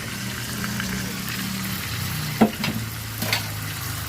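Pork fries in a pan as its marinade is poured in, making a steady, close sizzle with a sharp clink and a brief splash partway through and no talking.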